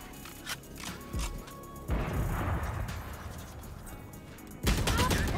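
Swarm grenades go off in the video game Valorant, a cluster of sharp popping blasts and crackling bursts with a denser rumbling stretch in the middle, loud and close with game sound around it.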